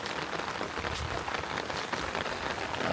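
Steady rain hisses down on a cauliflower field, a dense, even patter that holds at a constant level and swells slightly toward the end.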